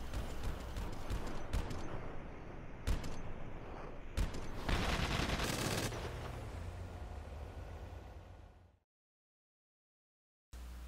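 Mounted machine guns on the Nightshark armored vehicle firing in a driving game, rapid loud bursts with sharp cracks over a rumbling vehicle bed, ending in a sudden silence before the sound resumes.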